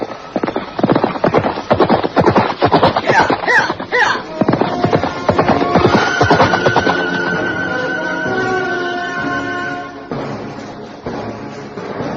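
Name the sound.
horse galloping and neighing, rider spurring horse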